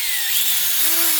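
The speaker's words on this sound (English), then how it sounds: "Drill on low speed." A drill on low speed runs a ball hone inside the cylinder of a KX80 motorcycle, a close continuous whirring grind with a faint rising tone, alone.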